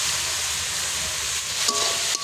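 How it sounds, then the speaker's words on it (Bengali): Potatoes with turmeric fry in a pan, giving a close, even sizzle, with a couple of quick utensil knocks near the end and no talking. "এখন আলুগুলো ভাজা হয়ে গেছে, কালার চলে আসছে।"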